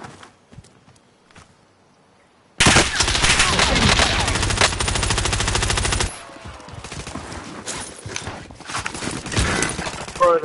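Video game gunfire bursts in abruptly: a loud, dense, rapid volley of automatic shots that runs for a few seconds, then continues more raggedly at a lower level. A faint voice can be heard under it.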